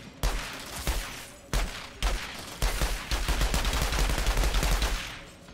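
Loud machine gun fire in Outriders, a few separate heavy bursts followed by sustained rapid automatic shooting, close and punchy with no talking.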